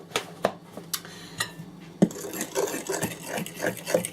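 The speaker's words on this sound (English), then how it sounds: "So we're giving a stir." Chocolate banana muffin batter being stirred in a bowl, with a spoon knocking and clicking against the bowl in an uneven rhythm, then a busier run of scraping and tapping, close up.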